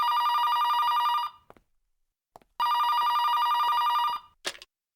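A telephone bell rings in two long, loud trilling bursts separated by a short pause, with brief faint clicks between them and no talking.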